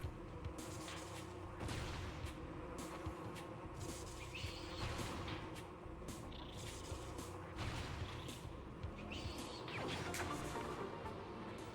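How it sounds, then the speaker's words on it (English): An insect buzz from a wasp enemy in Metroid Prime, steady and dense throughout, mixed with clattering mechanical game effects and sharp impacts. "the wasp just immediately decides to tackle me"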